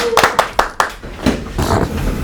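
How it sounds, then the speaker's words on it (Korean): A small group of people claps by hand at an outdoor climate justice rally, a few sharp, distinct claps at first that grow into loose, brief applause nearby. "네, 두 분에게 다시 한번 큰 손뼉 부탁드립니다."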